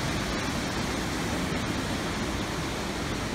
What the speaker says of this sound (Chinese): 我們就來看瀑布和河流，你看多澎湃